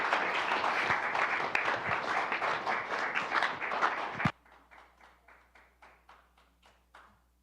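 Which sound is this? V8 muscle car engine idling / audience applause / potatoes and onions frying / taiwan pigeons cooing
audience applause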